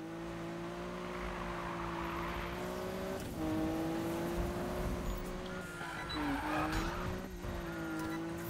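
A car drifts in the video game Need for Speed (2015), with a steady engine drone under squealing, skidding tires. The pitch bends and wavers as the car slides, holding at a fairly even level throughout.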